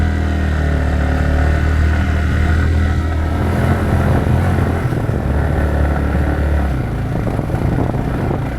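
Motorcycle engine labouring up a bad, muddy off-road track near Anini in the rain, a loud, steady, close drone that holds throughout with uneven throttle surges.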